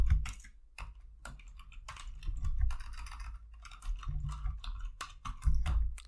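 Quick bursts of keystrokes on a computer keyboard as commands are entered on an Ubuntu network server, close and fairly quiet, with irregular clusters of taps and brief pauses, no voices.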